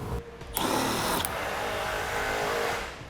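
A power drill whirs loudly and steadily, backing out a 10mm screw beneath the front fascia of a 2008 Honda CR-V, with a short burst at the start before settling into a sustained run close by, with no talk.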